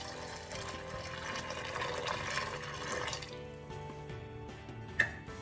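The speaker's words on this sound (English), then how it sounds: "Now I have to put a water into this." Water poured over oats in a bowl while making instant oats dosa batter, a steady splashing pour lasting several seconds, then tapering to a quieter trickle with one brief clink near the end.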